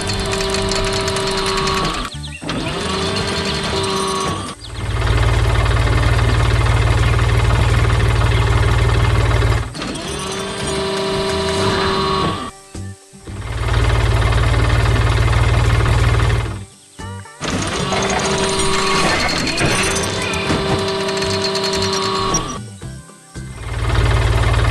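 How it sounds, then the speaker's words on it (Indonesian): A blue Ford tractor with a loader runs on a farm, its engine holding a steady mechanical drone with a whirring, machine-like tone that drops out briefly in a few short gaps before resuming. "Lihat, traktor biru dengan loader sedang beraksi di tengah kebun hijau"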